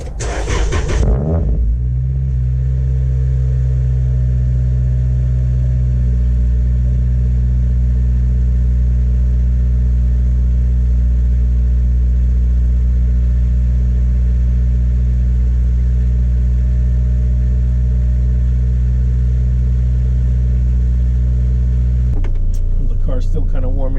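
Toyota Celica fitted with a Mishimoto radiator starting up, with a brief cranking burst followed by a steady, loud idle that holds evenly for about twenty seconds before the engine note shifts near the end.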